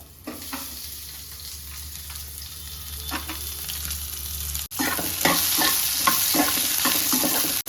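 Onions sizzle and fry in a pan with salt for mango rice, with scraping stirs growing louder partway through.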